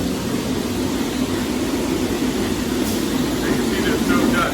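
A floor grinder works a garage floor ahead of epoxy flake coating, a loud, steady, dense roaring drone with no breaks, close by.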